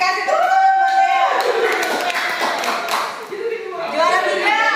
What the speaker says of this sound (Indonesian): kasih tepuk tangan buat Dea.